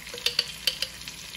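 Sofrito frying in a pan for a fried fish dish with island-style mojito sauce, a steady soft sizzle broken by a few sharp clicks of stirring, close and alone.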